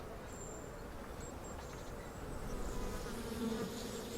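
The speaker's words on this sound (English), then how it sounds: "This is where his bees continue to find their food." Honey bees buzz steadily at a feeding site in a village in Oman, a faint continuous hum of many insects filling the background, with no voices.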